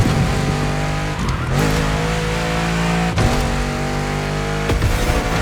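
A GT supercar's engine roars in the racing video game The Crew Motorfest, loud and steady with sharp rev changes and gear shifts, alongside tire squeal and game music.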